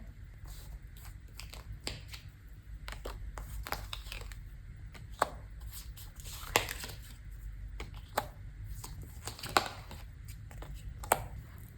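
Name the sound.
shuffling tarot cards for a reading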